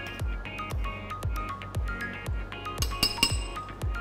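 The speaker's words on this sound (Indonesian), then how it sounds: "Di baking powder, di bagian kering kita aduk rata dulu." Dry cake ingredients with baking powder stirred in a bowl: a fast, even run of sharp clinks as the utensil strikes the bowl, about two strokes a second, close up and without talk.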